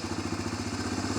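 A Honda Fourtrax 300 ATV engine idles steadily and a little high, with an even, rapid mechanical chug and a low throb heard up close, no voices over it.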